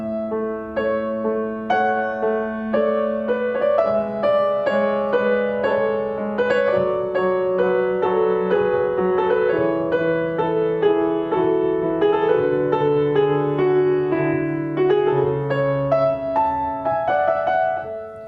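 A Classical Opera Company ensemble plays a Haydn orchestral passage with fuller, fleshed-out harmony, sustained layered string lines moving steadily at a moderate level, no speech.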